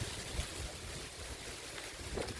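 Wind blows hard outdoors, a dense, steady roar buffeting the microphone with low rumbling gusts and no voices.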